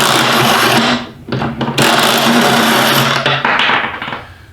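Drill-powered wrench with a big wrench attached, spinning in reverse to break loose a bolt torqued to about 125 pounds: a loud, steady mechanical whir with short dips where the load changes, running close up for several seconds.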